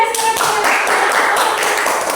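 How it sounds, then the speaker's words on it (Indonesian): Classroom children clapping together during a primary maths lesson, a short burst of quick, close hand claps with voices and a teacher's speech mixed in. "Oke, tepuk tangan ya,"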